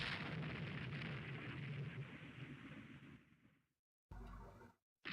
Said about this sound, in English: Some gunfire exchange, not much.